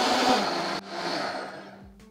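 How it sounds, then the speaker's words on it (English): A blender mixing hot chocolate with cacao butter whirs loudly, briefly cutting and restarting, then winds down and fades over a couple of seconds. "Give it a blend."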